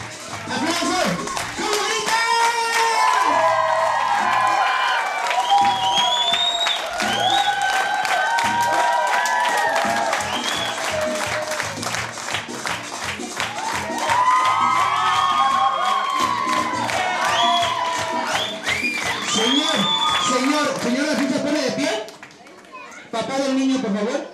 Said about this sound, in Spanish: ¡Aplausos, gritos, emociones!